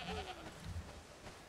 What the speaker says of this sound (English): Oh my god, little goats.